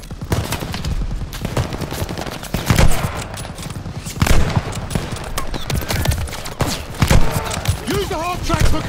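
Machine gun fire in the WWII shooter Call of Duty Vanguard, Operation Tonga mission on PS5: rattling automatic bursts and heavier single shots repeating close and loud, with shouting voices mixed in.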